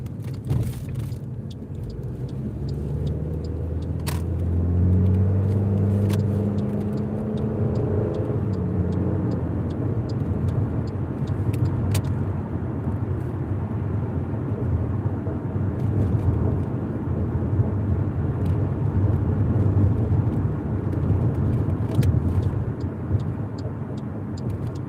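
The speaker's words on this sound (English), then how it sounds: "Someone cut off your catalytic converter, Ben." A loud, rough car engine rumble with its catalytic converter cut off idles steadily with a deep droning exhaust note, continuous throughout.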